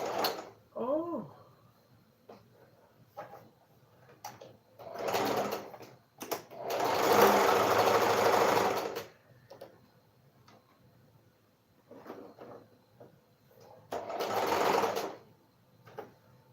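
Sewing machine top stitching a tote bag in short intermittent runs, with one longer burst in the middle and another near the end, amid quiet handling clicks and a brief voice.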